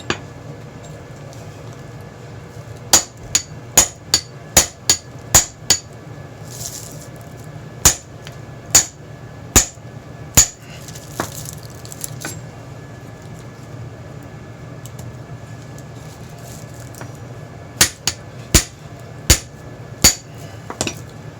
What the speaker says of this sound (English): I'm going to bang it with the hammer and see if I can break through the copper there.